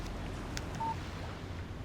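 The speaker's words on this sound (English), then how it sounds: "Text message from Barry." In the Alan Wake Remastered video game, a phone gives a short, clear electronic text-message alert tone over a steady, low ambient hum, with no talking.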